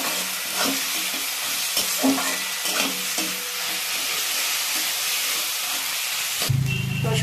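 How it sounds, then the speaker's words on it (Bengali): Garlic frying in a pan, a continuous close sizzle with rhythmic scraping strokes of a spatula stirring every half second or so, ending in a louder burst of hiss; no speech. "রসুনটাকে একদম লাল করে ভেজে নেব"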